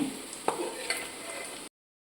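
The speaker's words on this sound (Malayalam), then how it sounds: "ഫസ്റ്റ് ട്രിപ്പ് ഞാൻ ഇട്ടിട്ട് വറുത്ത് പോരുകയാണേ" Beef pieces fry in hot oil for beef pickle, giving a soft continuous sizzle with a couple of brief utensil clinks before cutting to silence.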